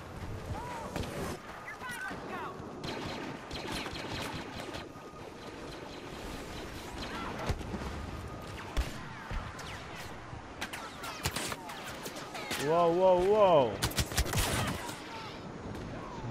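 Blaster gunfire from Star Wars Battlefront, with scattered sharp shots and bursts through a busy battle mix, a swelling whine of a passing craft near the end and a voice talking over parts of it.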